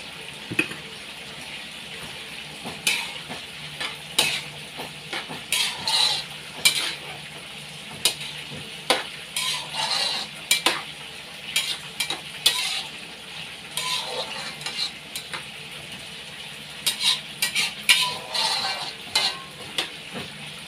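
Green beans and bean sprouts stir-fried in a pan with tofu, a steady sizzle under repeated clattering strokes of a utensil against the pan, close and fairly loud with no talking.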